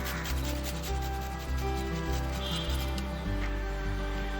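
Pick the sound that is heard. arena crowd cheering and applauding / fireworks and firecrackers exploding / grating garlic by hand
grating garlic by hand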